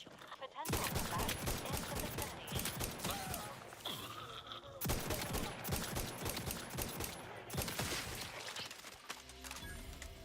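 Rapid gunfire in the video game Outer Worlds 2, with a charged triple-barrel shotgun in play. Dense, loud volleys of shots come in long runs, broken by brief pauses, with a voice talking faintly underneath.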